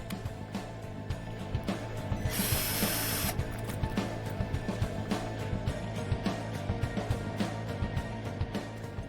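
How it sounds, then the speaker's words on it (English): A Schlage B660 deadbolt lock is pushed back into its housing, giving a steady run of small metallic clicks and ratcheting ticks, with one brief harsher scraping burst partway through, over a low background hum. "We'll reinstall the lock. Put it back into the housing."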